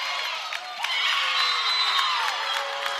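A high school volleyball crowd from Medfield erupts in loud, sustained cheering and shrill shouting in a gym, building to a peak and holding for several seconds.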